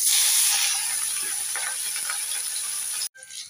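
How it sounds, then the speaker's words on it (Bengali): A salt-and-turmeric-rubbed fish head frying in hot white oil in a kadai gives a loud, steady, close hiss and sizzle that cuts off abruptly near the end. "এবার নুন হলুদ দিয়ে মাখিয়ে রেখেছি মাছের মাথাটাকে ভেজে নেব।"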